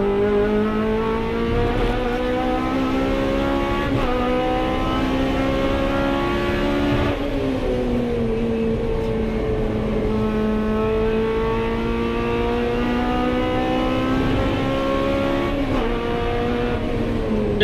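A 750 Motor Club hot hatch race car accelerates at Rockingham, engine climbing through the revs with quick gear changes, a loud, close, continuous onboard drone.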